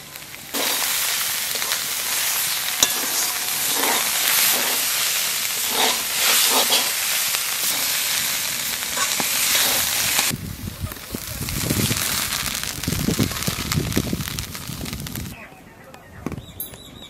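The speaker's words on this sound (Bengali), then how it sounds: "সর্ষের শাক প্রায় ভাজা হয়ে গেছে, আহানে একটু তেল দিয়ে নাড়িয়ে চড়িয়ে শেষে নামাই দেবো" Mustard greens hiss in oil and are stirred now and then, a dense, close sizzle lasting throughout, with a voice speaking intermittently over it.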